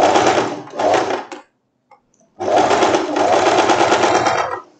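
A sewing machine stitches a wrap dress in two close, loud runs, a short burst then a longer steady run after a brief pause.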